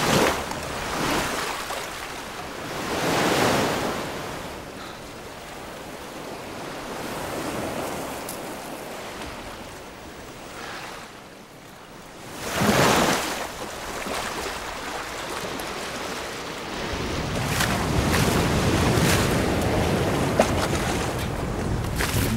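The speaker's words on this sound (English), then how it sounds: "None of these sounds that you hear as Chuck is trying to get through the surf were simply recordings of surf." Layered surf from the film Cast Away, built up in sound design rather than taken from a single recording: rolling waves surge and crash in broad bursts, with a heavy break near the middle and a steady churning wash at the end, with no talk.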